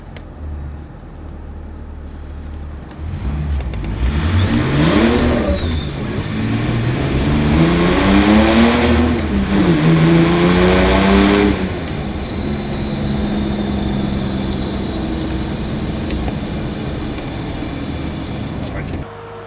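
Puma diesel engine in a Land Rover Defender revs repeatedly, with rising and falling pitch swells, loud and close, and a voice talking over parts of it.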